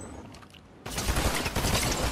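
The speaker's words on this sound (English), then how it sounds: "Gunfire." Fortnite gunfire during a ranked cup match: a sudden burst of rapid shots erupts after a quieter moment and continues as dense, loud, overlapping fire.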